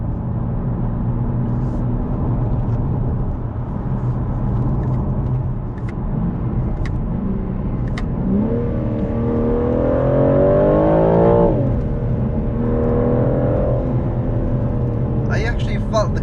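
A BMW G82 M4 driven hard gives a deep, steady engine drone that climbs into a loud rising rev and then falls back, with a few clicks and a brief rustle near the end.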